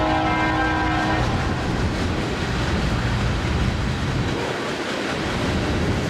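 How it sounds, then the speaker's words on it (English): An eastbound Union Pacific mixed freight train passes close by in Mechanicsville, Iowa, on the Clinton subdivision, a loud, continuous rumble of wheels and cars, with a horn sounding briefly at the start. "here come a mixed freight"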